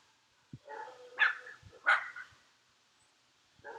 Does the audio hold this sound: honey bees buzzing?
no